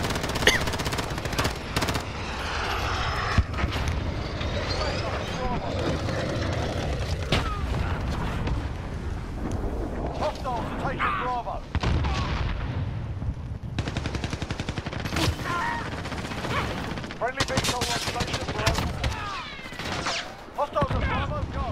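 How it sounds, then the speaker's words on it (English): Sustained Call of Duty gunfire, with dense automatic bursts, booms and mechanical clatter running throughout at a loud, steady level, close and heavy, with little pause. "I shot at a tire."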